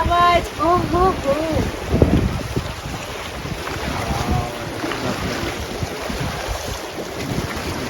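Outdoor water and wind at Kasarsai Dam near Pune, a continuous rushing wash with buffeting wind on the microphone, while a person speaks briefly at the start over the steady noise.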